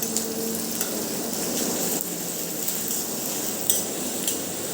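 Mixed vegetables with chopped capsicum and ginger-chili paste are stirred in a pan, a steady sizzle with faint scraping and occasional light metal clinks of a spoon against the pan, no talking.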